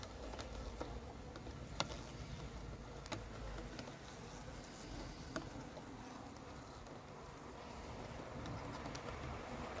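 Honey bees buzz around a hornet trap tent at an apiary in Montgeron, a steady, faint insect hum running throughout with a few sharp clicks and no voices.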